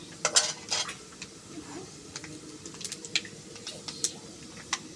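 A metal spoon stirs lentils in a pan of hot oil, scraping and clinking against the pot with soft wet squishing under a faint sizzle, in close, irregular strokes with no talking.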